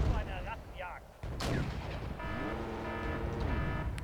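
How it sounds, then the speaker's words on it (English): In the Wargame: European Escalation multiplayer game, a heavy artillery blast booms, then engine drone and battle rumble continue, with tonal game sounds layered over the noise. "We've got some friendly artillery coming in."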